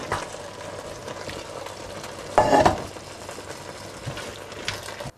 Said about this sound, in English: Once everything is cooked, all the contents need to be put together and mixed up.